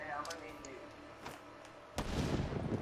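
A grenade explosion in Call of Duty: Black Ops III, a sudden loud boom with a rumbling tail near the end, preceded by faint game noises and brief voices.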